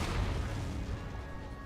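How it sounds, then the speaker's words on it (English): Cannon fire in Empire: Total War, a Napoleonic-era strategy game battle against the Swedes, heard as a dense, continuous rumble of distant booming artillery with no distinct single shots. "You can hear the faint sound there of gunfire."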